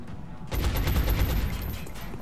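Gunfire in XCOM: Enemy Within erupts after a brief quiet moment into a loud, rapid burst of shots that rattles on and slowly tails off, with no voices over it.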